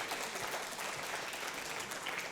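Applause from an audience at a talk, a dense, even patter of many hands clapping at moderate level throughout, with no voices over it.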